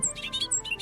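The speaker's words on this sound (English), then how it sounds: "Hear the bird sing." A bird sings in a quick series of high, thin chirps repeating rapidly in a short burst, close and fairly clear.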